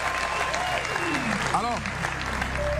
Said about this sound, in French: Est-ce que déjà on peut applaudir très fort, s'il vous plaît